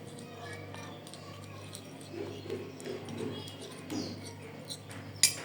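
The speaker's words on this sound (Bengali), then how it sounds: "আমি রোজ ওয়াটার দিয়ে মিশিয়ে আপনাদেরকে দেখাচ্ছি।" Ubtan face pack paste is stirred with rose water in a bowl, giving soft scraping and light clinks that come and go quietly, close by.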